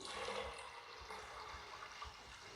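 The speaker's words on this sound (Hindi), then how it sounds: "तो यहाँ मैं इसमें 1 लीटर पानी ऐड करूँगी।" One litre of water pours into a cooker holding lentils for dal chawal, a faint, steady splashing rush that runs continuously at low volume.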